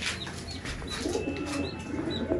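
A female pigeon coos softly and repeatedly close by, low throaty murmurs over a busy background hiss with faint chirps.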